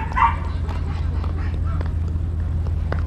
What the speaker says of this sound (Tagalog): Tapos magdadala ka dito ng aso na maingay.